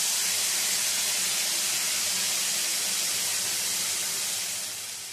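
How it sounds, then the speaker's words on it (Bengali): Ground spice paste hits hot tempering oil in a pan, setting off a loud, continuous broadband sizzle that holds steady, then eases slightly toward the end; no talking. "এখন এই ফোড়নের মধ্যে দিয়ে দেব বেটে রাখা পেস্টটা।"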